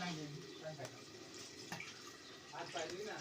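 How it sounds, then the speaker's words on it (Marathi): Hands washed under a running tap before kneading chapati dough in a home kitchen, a steady close splashing of water with a voice talking over it. "व्यवस्थितपणे हात धुवून घ्या"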